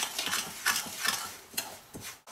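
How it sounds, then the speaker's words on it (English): Banana puri dough ingredients (mashed banana, salt, almond powder, cardamom powder and butter) being mixed by hand in a bowl, giving soft rhythmic squelching strokes, close and quiet, with no talk. "Mix it well till everything comes together."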